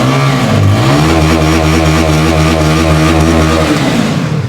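A new Keeway 300cc motorcycle started up and revved up close, the engine note climbing sharply, holding a loud steady drone, then dropping back toward idle near the end.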